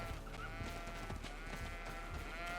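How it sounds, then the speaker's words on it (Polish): Goats bleat in the video game GreedFall, a few short calls over steady ambient game music, moderately loud and close. "Kozy."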